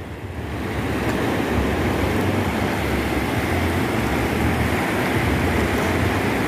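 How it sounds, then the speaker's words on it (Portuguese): Gentle ocean surf rolls steadily at a beach in Itanhaém, Brazil, a continuous broad wash of waves with wind noise, loud and close, with no voices. "poucas ondas, é um mar mais tranquilo"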